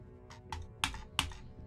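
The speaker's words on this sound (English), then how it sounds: "I'm sure you can hear me clicking." A computer mouse clicks several times in quick succession during a Star Trek Borg video game, crisp and close over a low background hum.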